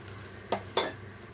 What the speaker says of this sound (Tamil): பாண்டியில் நான் ரெண்டு ஸ்பூன் நெய் விடுறேன்